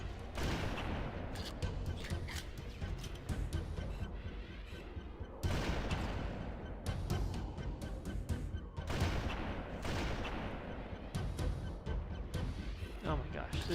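Sniper rifle shots in the Halo: Combat Evolved game during a fight against the Flood, a dense wash of booming gunfire and impacts running continuously at high level, with talking mixed in.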